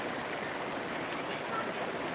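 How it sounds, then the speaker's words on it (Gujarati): Heavy rain pours down in Panva, Surendranagar, Gujarat, making a steady, dense hiss of falling water that stays even and continuous throughout, with no speech. "તો મિત્રો અમારે તો જોરદાર વરસાદ ચાલી રહ્યો છે"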